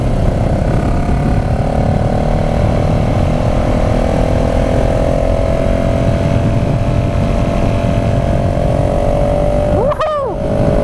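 A KTM SMC R 690 supermoto motorcycle engine drones steadily as it is ridden, a continuous mid-pitched hum holding nearly constant pitch, with a brief dip and whine change near the end.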